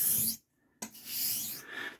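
A plane blade bevel on a Puma 89 rubbed back and forth across a 1000 grit stone, producing close, raspy scraping strokes broken by a brief pause, with no talking.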